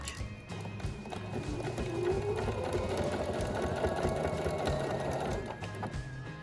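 Sewing machine running steadily at close range as it stitches quilt fabric, a continuous mechanical whir that swells in the middle and eases toward the end, with no talking.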